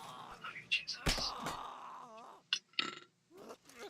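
A burp comes out as a short, low, guttural croak among grunts, a slap-like thump and other vocal noises, close and moderately loud, with voices nearby.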